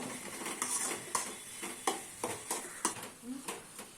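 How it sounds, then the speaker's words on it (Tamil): Onion and tomato sautéed with salt and turmeric in a pan for a squid masala, a steady soft sizzle broken by regular scraping stirs of a spatula, close and fairly quiet. "அதுக்காக கொஞ்சம் உப்பும் மஞ்சத்தூளும் சேர்த்து நல்லா வதக்கிக்கலாம்."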